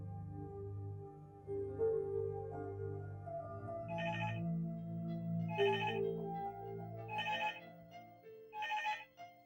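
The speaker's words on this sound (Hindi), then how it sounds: "अरे मल्लिका, जरा फोन उठाना प्लीज" A telephone rings in four evenly spaced bright electronic bursts over a low, steady musical background, with no talking.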